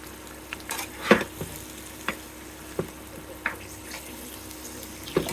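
Vegetables fry in a pan for a vegetarian dish, a soft steady sizzle broken by several sharp scrapes and knocks of a stirring spoon at irregular intervals, close by, no speech.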